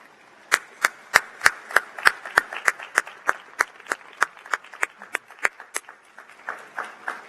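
A small commencement audience claps for honors graduates and their families, a sparse, distinct run of about twenty sharp, evenly spaced claps, fairly close and clear, slowing and thinning toward the end with no talk over it.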